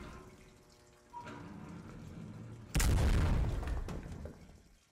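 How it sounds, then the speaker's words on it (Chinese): A loud explosion bursts out partway through a horror video game set in a morgue, its deep rumbling blast decaying over a couple of seconds after a quieter, tense ambience. "有爆炸，我躲开了，躲开了"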